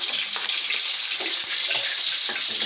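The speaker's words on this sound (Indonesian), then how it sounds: "setelah wajan sama minyaknya panas, aku masukin bawang merah, bawang putih ya" Shallots and garlic frying in hot oil in a wok, a loud, close, continuous sizzle with occasional soft stirring scrapes and no talk.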